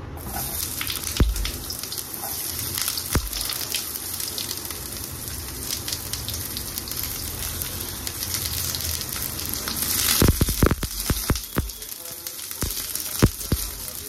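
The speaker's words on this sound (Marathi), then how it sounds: "इथे आता आपलं तेल टाकलं आहे, तर मी याच्यात आता कांदा टाकणार आहे" Chopped onion sizzles and crackles steadily in hot oil in a pan, with a dense frying hiss throughout and sharper clicks and taps of stirring near the end. Someone speaks quietly under the sizzle.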